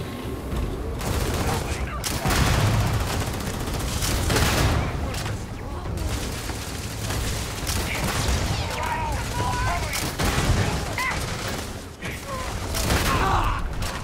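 Gunfire in the video game Starfield, with dense, sustained bursts of weapon fire and booming impacts layered over a continuous loud game soundscape. No one speaks during the barrage.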